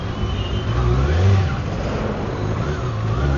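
Kawasaki ZX6R sport motorcycle engine droning steadily while riding, a loud continuous low rumble with slight swells in pitch throughout.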